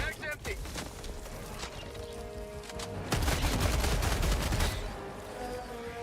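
A weapon fires at Terminids in the video game Helldivers, bursts of rapid shots that swell into a louder sustained volley midway and then ease, with a voice talking over the action.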